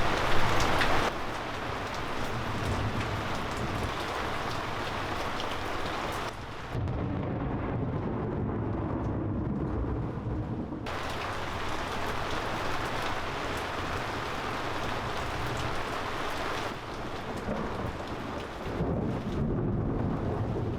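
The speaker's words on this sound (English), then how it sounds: "it's been raining really hard, and the lightning has been just insane." Heavy rain pouring steadily at a marina during an electrical storm, a dense continuous hiss with deep rumbles of thunder rolling underneath, loud and unbroken throughout with no voices.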